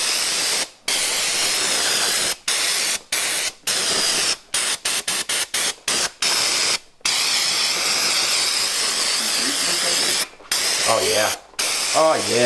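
An aerosol can blasts grease off engine parts in repeated loud, close hissing bursts separated by short gaps, with brief spoken remarks near the end.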